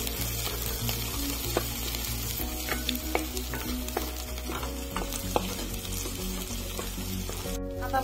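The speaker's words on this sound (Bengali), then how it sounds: "লঙ্কাটা এখন অল্প ভেজে নিব।" Chopped chillies frying with whole cumin, a continuous loud sizzle in the pan punctuated by repeated sharp clicks and scrapes of a spatula stirring, with no voices.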